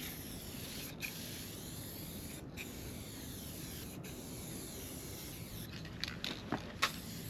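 Base coat being spray painted onto an alloy wheel: a continuous airy hiss of the spray gun, fairly quiet, broken by a few short pauses and small clicks of the trigger toward the end.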